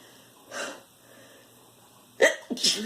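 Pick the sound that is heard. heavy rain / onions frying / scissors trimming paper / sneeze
sneeze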